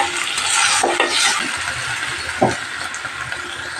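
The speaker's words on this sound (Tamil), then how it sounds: "இப்போ உப்பு சேர்த்து கொஞ்ச நேரம் வதங்கட்டும்" Onions and spinach sauté with salt in a pan, making a loud, close hiss and sizzle with scraping stir strokes and a sharp knock near the middle.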